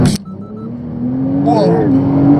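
Porsche 911 Turbo (992) using launch control: a loud, steady engine roar builds from a sharp start into a hard acceleration, with rising harmonic tones partway through.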